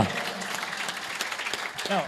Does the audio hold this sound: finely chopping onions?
no